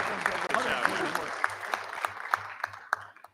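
At a board meeting, scattered audience clapping dies down to a few sharp, separate claps, with voices murmuring underneath.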